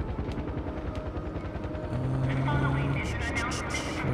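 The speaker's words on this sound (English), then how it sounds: "Can I hear a helicopter?" A helicopter's steady rotor thump drones in the background of Far Cry 4 gameplay, growing louder and fuller partway through, with a voice talking over it.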